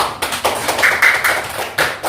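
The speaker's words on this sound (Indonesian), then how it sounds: "Tepuk tangan untuk kelompok 1." A classroom group claps for the first student group, a short burst of several distinct, fairly loud hand claps in an uneven rhythm lasting about two seconds.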